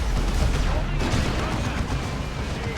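Tank fire in Dawn of War 2, an Imperial Guard battle, sits inside a dense, constant roar of battlefield noise with overlapping booms and rumbling impacts, a voice talking over it.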